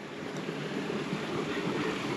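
Water gurgling and rushing down a rocky canyon at Sycamore Falls near Williams, Arizona, a steady low wash heard from the canyon edge with some wind across the microphone, no voices.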